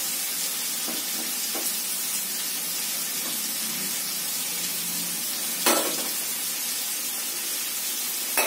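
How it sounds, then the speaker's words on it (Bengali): Fish fries in a pan in a home kitchen, giving a steady, close sizzle with a sharper crackle or clatter near the end and one more at the very close. No voices. "মাছ ভাজা।"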